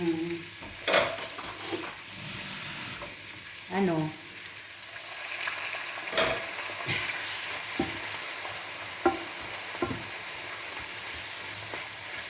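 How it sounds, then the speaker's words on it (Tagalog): Zucchini frying in a home kitchen pan gives a steady close sizzle with occasional stirring and scraping clatters. "Lagay na natin yung ating zucchini."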